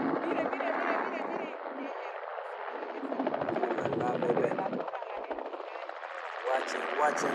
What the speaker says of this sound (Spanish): Les voy a mostrar el helicóptero que ahorita va a hacer su despegue.